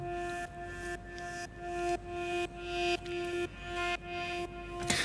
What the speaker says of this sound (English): So it's a kind of nice pulsing sound,